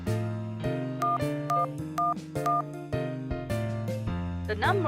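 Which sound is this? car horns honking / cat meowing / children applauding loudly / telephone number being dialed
telephone number being dialed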